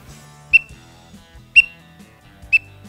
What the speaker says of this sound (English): You can do a teal call,